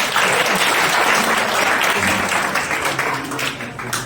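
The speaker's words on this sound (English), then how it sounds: "Clap." A crowd of students at a college induction event breaks into loud, dense, continuous applause that fills the hall and fades slightly toward the end.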